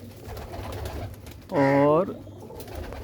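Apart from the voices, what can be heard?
pigeon cooing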